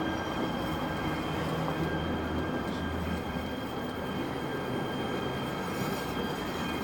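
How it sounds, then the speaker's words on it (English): Train rolling past an apartment in Santa Monica, a continuous loud rumble with faint metallic wheel squeal, steady from start to end with no talking. "I have the train in front of my apartment all the time"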